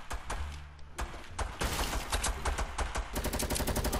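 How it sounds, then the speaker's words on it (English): Rapid gunfire erupts in a prison-themed shooter video game, with sharp repeated shots: a few separate cracks at first, then dense bursts and a fast rattling volley near the end, loud and close. "Is that the new grenade launcher?"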